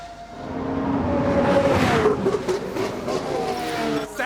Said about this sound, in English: Sounds like someone's locked up.